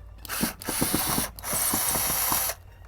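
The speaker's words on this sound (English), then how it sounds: "So what we're going to do is just remove these two screws at the bottom here." Screws being backed out of the bottom of a Hunter X-CORE sprinkler irrigation controller box, a close run of quick ratcheting clicks and scraping turns in two bursts separated by a short pause, with no talking.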